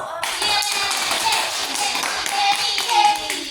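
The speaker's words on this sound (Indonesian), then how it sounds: "Kita tepuk tangan dulu." A group of students claps hands in a dense, continuous burst of applause in a classroom, close and loud, with a few voices mixed in.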